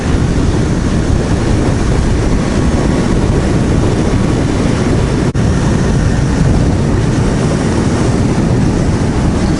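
KTM Duke 200 single-cylinder motorcycle engine running steadily while riding, a loud continuous drone mixed with heavy wind rush, no talking.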